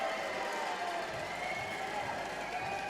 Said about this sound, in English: that's not going to discourage fans from chanting and cheering